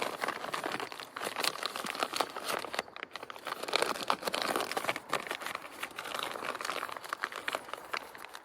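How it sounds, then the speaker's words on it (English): A strip of plastic is wrapped around an air-layered branch, giving a steady close crinkling and rustling that runs throughout with brief sharper crackles. "I'm gonna take one more strip of plastic, and I'm gonna take it like all the way around the whole thing."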